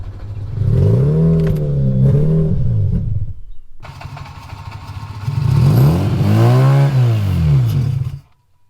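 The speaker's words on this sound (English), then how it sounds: "So it'll start, but as soon as I try to rev it at all, it just dies" A Mazda RX8 rotary engine fires and revs twice in close succession, each time climbing briefly then sagging and cutting out, the second burst stumbling before the engine dies into silence.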